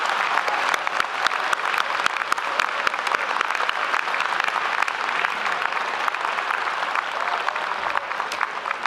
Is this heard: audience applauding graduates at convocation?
yes